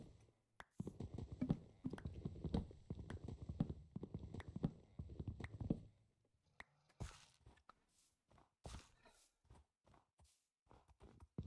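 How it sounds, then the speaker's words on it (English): Skeleton and zombie horses in Minecraft clip-clop in a steady walking rhythm, loud and close for several seconds, then give way to scattered hoof taps and soft knocks that come and go. "I like that the skeleton horses and the zombie horses aren't hostile, they're just kind of chill."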